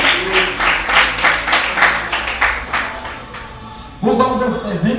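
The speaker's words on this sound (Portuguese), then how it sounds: "Vamos aplaudir nosso Deus?" Church congregation clapping in praise during a Portuguese-language sermon, a dense run of rhythmic applause that fades before a voice speaks over it near the end.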